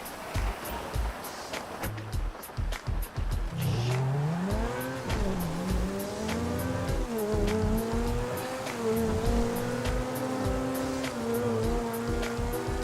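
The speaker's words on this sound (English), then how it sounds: "With the best engine sound in the game." Car in GTA Online: a steady engine roar that swells and drops through gear shifts, with tire squeal and skidding bursts, loud and continuous with no talk.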